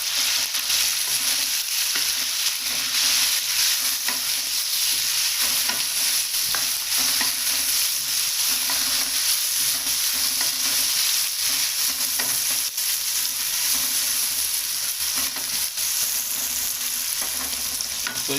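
Ginger-garlic paste sizzles and fries loudly in a pan while being stirred steadily, a constant close crackle with stirring scrapes, cooked as the base for a chicken and cauliflower curry.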